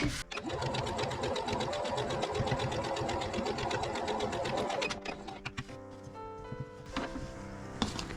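Sewing machine stitching patchwork pieces for a log cabin block, a fast close mechanical whir of needle strokes that runs steadily, then slows and stops with a few faint clicks and handling noises.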